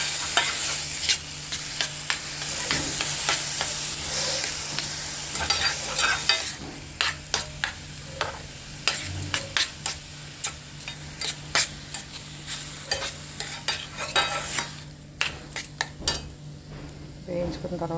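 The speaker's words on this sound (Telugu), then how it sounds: "నీళ్ళన్నీ పోయేదాకా వేయించుకోవాలండి, కొంచెం దగ్గరగా వచ్చేదాకా" Grated apple fries in a pan for apple halwa, a steady sizzle running throughout with repeated sharp scrapes and clinks of a spoon stirring against the metal, close and fairly loud.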